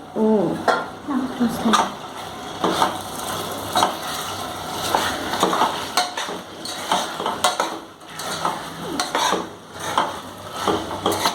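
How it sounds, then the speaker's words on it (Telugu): Chicken and shahjeera frying in oil for biryani, a close sizzle mixed with repeated clattering stirs and scrapes against the pot, with brief bits of a voice at the start. "మనకి చికెన్తో పాటు షాజీరా కూడా ఫ్రై అయిపోతుంది మంచిగా"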